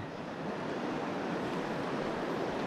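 Sea water churning and surging against a rock formation, a steady, loud broadband roar of surf with wind noise, continuous throughout with no voices.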